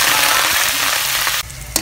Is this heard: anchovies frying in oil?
yes